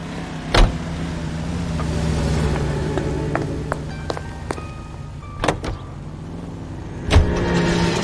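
Car in the video game L.A. Noire, heard as a steady engine and road drone with a few sharp door or mechanical clunks standing out over the running vehicle.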